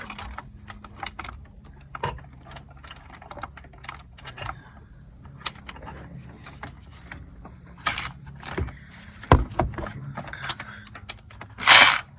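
Ratchet wrench backing out the last screw of a thermostat housing on a 2016 Buick Encore 1.4T, giving quiet, irregular clicking and mechanical rattles close by, with a louder burst of clatter near the end and no talk.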